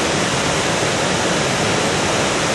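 Victoria Falls roars as a dense, steady, unbroken rush of falling water, loud and close, with no voices over it.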